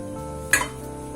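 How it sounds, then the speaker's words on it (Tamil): Pirandai leaves dropped into hot oil in a pan give a short, sharp sizzle with a light clatter, briefly loud and then settling to a faint hiss. "இப்போ நம்ம எண்ணெயில போட்டு இதை வதக்கிக்கலாம்."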